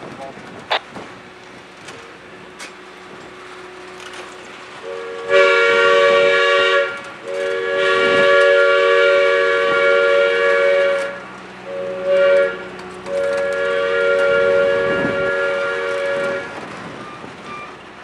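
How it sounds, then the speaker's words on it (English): A locomotive air whistle blows a series of loud long and short blasts, close by, as a train shoves a passenger car into a shop, with rumbling rail noise between blasts. "I'm having a lot of fun with this air whistle."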